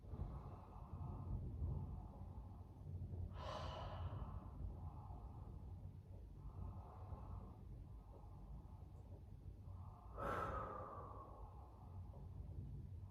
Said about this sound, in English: do some nice deep breathing. In through the nose and out through the nose.